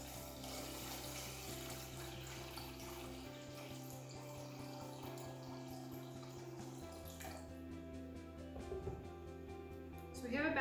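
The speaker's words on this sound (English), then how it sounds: "I'm going to put cold or room temperature water over the eggs" Cold or room-temperature water pours into a pot over eggs for natural Easter egg dye, a steady rushing flow that shifts in pitch and grows louder near the end, with a voice talking through part of it.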